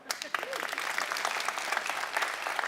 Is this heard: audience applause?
yes